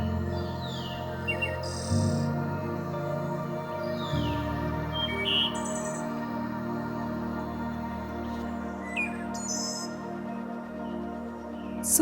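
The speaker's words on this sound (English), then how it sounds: "the green surroundings with the birds chirping was the real hero of our journey in Munnar" Bright bird chirps and short calls ring out repeatedly over a constant droning hum, some near and some farther off, with no talking.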